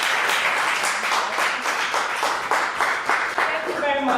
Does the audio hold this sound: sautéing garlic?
no